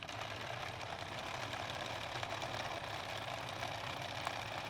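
A sewing machine stitches lining onto a linen dress with a 1 centimetre seam allowance and 2.5 stitch length, a steady, faint mechanical hum running throughout without pause or speech.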